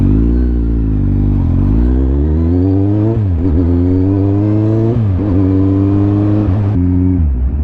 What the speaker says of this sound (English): this bike, a Kawasaki Z1000. It's a ZR1000B. It's a 2007.